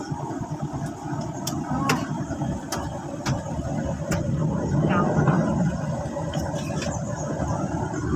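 A car engine runs at a steady mid-level hum while the car turns around near a lake, rising slightly partway through, with voices talking over it.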